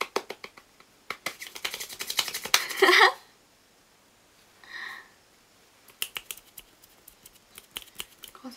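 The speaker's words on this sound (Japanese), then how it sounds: "高速指パッチン、" Rapid finger snapping, first a fast dense flurry of sharp close clicks lasting about two seconds, then after a pause a looser scatter of separate snaps, with a brief soft vocal sound between.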